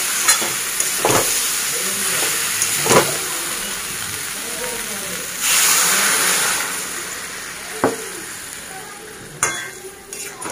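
Water poured into a hot pan of prawn curry bursts into a loud steamy sizzle that swells and then settles, with stirring clinks and someone talking over it.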